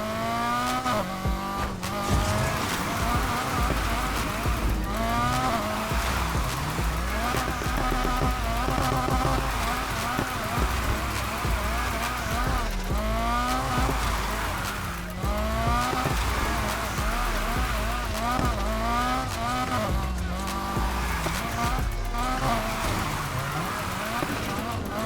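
A Nissan 180SX in Need For Speed Heat revs and shifts through gears, the engine rising and falling repeatedly with tire squeal and rain-like hiss, loud and continuous throughout.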